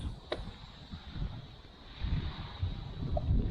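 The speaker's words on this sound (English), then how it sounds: "Wind is so strong and it's so noisy" Strong wind outdoors beside a Volvo V70, gusty rumbling wind noise buffeting the microphone, rising and falling and growing stronger toward the end.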